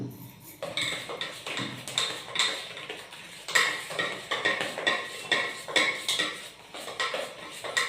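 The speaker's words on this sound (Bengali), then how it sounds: "ময়দাটা দিয়ে দেবো, অল্প অল্প করে দেবো আর মিশাবো" Flour is mixed into cake batter in a bowl for a simple homemade Christmas cake, with a spoon rhythmically scraping and clinking against the bowl, uneven strokes repeating close up, with no talk.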